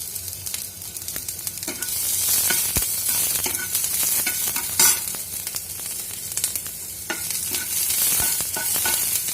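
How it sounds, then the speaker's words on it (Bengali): Thin strips of capsicum sizzle steadily in hot oil for the whole stretch, with occasional stirring scrapes and spatters, close and fairly loud, and nobody talking. "তেলের মধ্যেই আমি দিয়ে দেবো সামান্য সরু সরু করে কেটে রাখা ক্যাপসিকাম"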